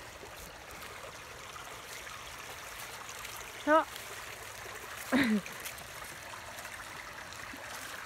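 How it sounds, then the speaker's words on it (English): Gentle, steady rush of a fast-flowing garden waterfall in early spring at a moderate distance, with a brief exclamation and a short voice cutting in over it. "Let's go look at the waterfall."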